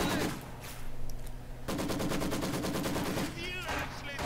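A Soviet Maxim machine gun fires on a German Grenadier squad in Company of Heroes 2, the WWII strategy game, with sustained rapid rattling bursts over battle noise and game voice lines.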